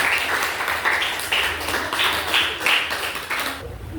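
A small classroom group of students claps during a guidance and counseling practice session, uneven bursts of hand claps rising and falling in waves before trailing off.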